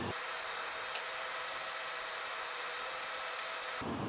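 An airbrush sprays a quick coat of paint onto a fishing bait, a steady continuous hiss close by that cuts off abruptly near the end, with no voices.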